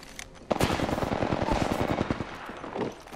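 Spitfire light machine gun in the Apex Legends video game firing a long sustained burst, rapid evenly spaced loud shots close up, ending with a brief pause near the end.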